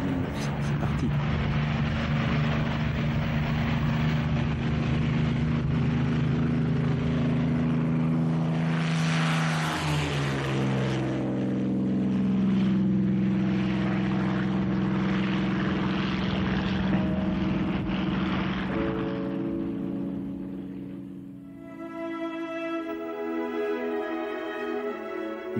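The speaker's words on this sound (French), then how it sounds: "Allez, les gaz, et on décolle. 2800 tours, 2900. C'est parti." Supermarine Spitfire propeller fighter roaring steadily at full throttle around 2900 rpm during its takeoff run, a loud sustained engine drone that shifts in pitch midway and fades slightly toward the end.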